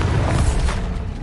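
A Bombarda spell blast from the video game Hogwarts Legacy bursts loud and close, a dense low booming rumble that fills the whole moment with no voice over it.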